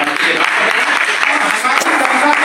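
An audience gives a loud round of applause at a speech, a dense roar of clapping heard along with a voice that carries on over it throughout.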